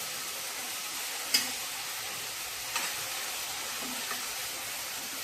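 Colocasia (alu) leaves sautéing in a pan, a soft continuous sizzle and hiss with faint stirring scrapes and a couple of small clicks, steady and close with no talking.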